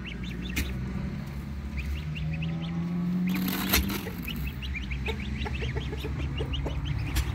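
Turkeys and geese calling in a farmyard, repeated clucking and gobbling calls from several birds over a steady outdoor background, close and continuous.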